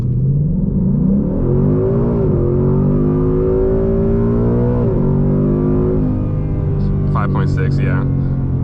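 A new Ford Mustang GT accelerating hard, its loud engine note climbing through the gears with brief dips at each shift, close and continuous, with a voice speaking near the end.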